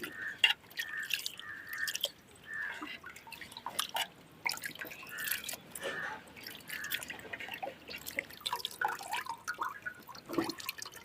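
Water drips and trickles from rinsed fermented rice as it drains in a village kitchen, scattered irregular splashes with brief pauses, fairly close and clear.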